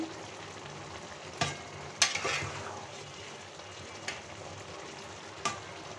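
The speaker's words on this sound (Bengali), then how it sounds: "নেড়ে চেড়ে দিচ্ছি, ভালোভাবে নেড়ে চেড়ে দিচ্ছি।" Egg curry with bean seeds and bori stirred in a pan, a low simmering sizzle punctuated by four distinct scraping strokes, the second the loudest.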